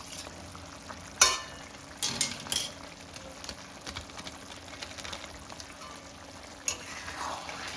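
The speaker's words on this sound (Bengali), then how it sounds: "এবার ঘি গরম মশলা দিয়েও আমি একটু মিক্স করে নেব।" Ghee and garam masala being stirred into a potato and pointed gourd curry made with Gobindobhog rice: faint, steady simmering hiss with scattered soft scrapes and clinks of a spoon, a few sharper knocks near the start and end.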